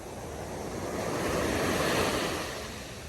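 A wave of water surges in with a rising, then fading rush of surf, loud and close, with wind buffeting the microphone.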